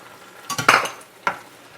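Beaten eggs, already seasoned with salt and pepper, go into a hot pan for scrambled eggs, with a short burst of sizzling and utensil scraping, then a second brief clink and stir.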